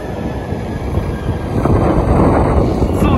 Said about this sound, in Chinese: 也不排除是轨道年久失修发出的声音